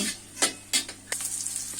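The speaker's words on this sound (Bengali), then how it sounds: "সয়াবিনগুলো আমি লবণ হলুদ দিয়ে লাল করে ভেজে নিব।" Soybean chunks frying in hot oil with salt and turmeric: a soft, steady sizzle broken by a few sharp scraping stirs of a spatula in the pan, quiet and close.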